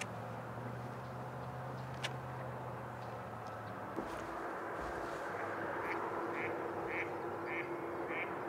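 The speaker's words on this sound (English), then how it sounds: "we've got some ducks, plenty of ducks." Ducks quack repeatedly in a steady series by a river, moderately close, over an outdoor background hum and a low drone.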